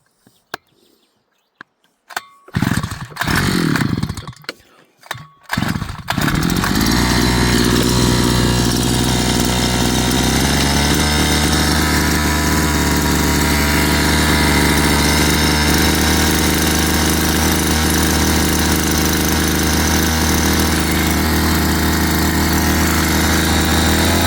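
A petrol water pump motor gives a few sharp starting pulls and sputters, then catches and runs on at a loud, steady drone close by with no talk.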